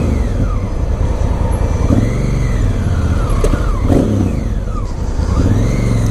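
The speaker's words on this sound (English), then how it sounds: "Oh, bloody bikes everywhere." Motorbikes and other road traffic pass by on a busy road, engines rising and falling in several overlapping sweeps, steady and fairly loud throughout.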